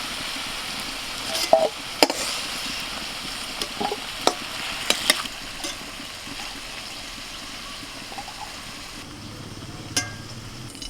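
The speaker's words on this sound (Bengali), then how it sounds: "তো লাউগুলোকে একটু হালকা করে ভেজে নিয়েছি, এখন তুলে নিচ্ছি।" Bottle gourd pieces frying lightly in oil in a wok, a steady, moderate sizzle with scattered clinks and scrapes of a utensil lifting the pieces out.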